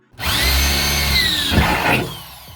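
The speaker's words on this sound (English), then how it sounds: "you're cutting a 14 by 14 inch hole in your roof" A power tool whines loudly and steadily as it cuts a 14 by 14 inch hole through a camper van roof for a ceiling vent, with a rougher grinding burst near the end before it winds down.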